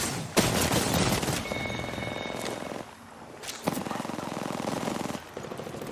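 Rapid automatic gunfire in a shooter video game, loud sustained bursts broken by short gaps, with game sound effects mixed in.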